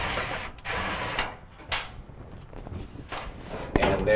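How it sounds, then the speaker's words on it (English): A 5/16 head ground screw being removed from a Kenmore washer, with bursts of ratcheting and whirring from a driver tool separated by short pauses, close up, ending in a sharper clatter. "Just going to go ahead and remove that ground screw."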